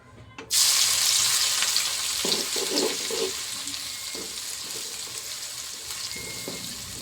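Crushed ginger, garlic and cumin hit hot oil with a sudden loud sizzle, then continuous frying hiss that gradually settles, with occasional stirring clatter.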